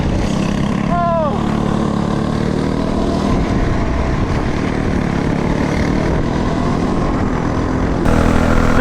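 A go kart with a Predator 212cc engine runs on a track day, a loud continuous droning engine roar close by, with a brief shout early on.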